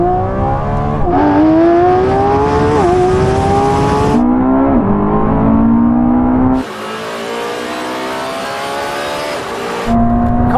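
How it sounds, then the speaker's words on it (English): Lamborghini, Ferrari and Porsche sports cars in manual mode accelerate hard in second gear from 30 mph in a rolling race to the half mile, engines roaring and rising in pitch through gear changes, loud and close with a drop after one pass. "Now we're going to have a rolling race from 30 miles an hour."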